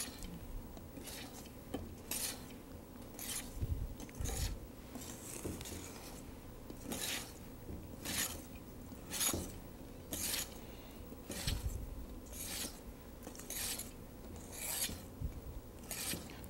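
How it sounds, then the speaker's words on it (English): A whisk gently folds chocolate truffle cake batter in a bowl, giving repeated soft scraping strokes roughly every second, close and steady, with no talking. "Constantly turning the whisk."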